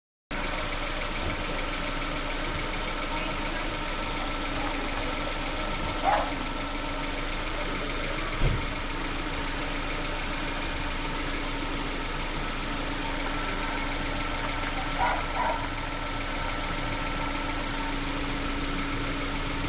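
A car engine idles steadily with a Kingbolen BM550 battery analyzer clipped onto its 24-volt battery, a constant close mechanical hum throughout with a few faint clicks and one low thump, and no talk.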